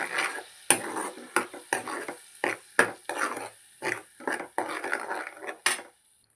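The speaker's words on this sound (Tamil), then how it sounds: "பேஸ்ட்டை பற்றி நல்லா கிளறி விடணும்." A utensil scrapes and stirs a thick masala paste for chicken curry in a pan in repeated strokes with metallic clinks, a steady rhythmic mixing at close range.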